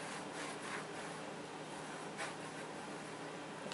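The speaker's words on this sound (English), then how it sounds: "flip it over and then burnish it really good on the back" Paper burnished by rubbing hard on its back, a faint close scratchy swishing in quick repeated strokes with no talk.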